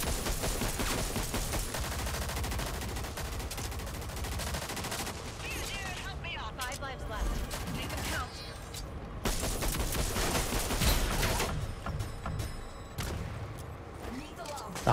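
Spitfire gun in the shooter game Rogue Company, firing in rapid sustained automatic bursts that repeat through the stretch, loud and close, with talking mixed in.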